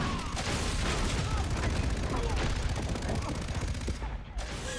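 Dense automatic gunfire in the Far Cry 3 video game, a continuous spray of rapid shots with crackling impacts filling the whole stretch, with a player talking over it.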